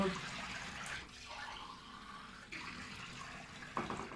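Water runs steadily from a tap in a continuous hiss, fairly close, with a brief change in flow partway through.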